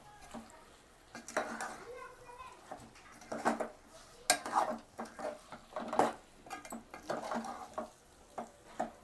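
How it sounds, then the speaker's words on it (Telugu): A spoon scrapes and stirs chicken curry masala with garam masala powder in a pan, making irregular clatter and soft sizzling under a voice speaking between the strokes. "గరం మసాలా పొడి, ఇవన్నీ వేసి ఒకసారి బాగా కలిపెట్టండి."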